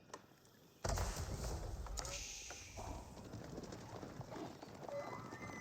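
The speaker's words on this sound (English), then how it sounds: "We do have one horse on the field" Horse hooves in the Age of Empires 4 video game, a faint continuous patter of clopping steps under a busy game soundscape after a sudden onset.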